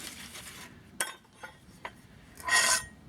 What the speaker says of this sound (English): A little bit of rasping, a little bit of planing.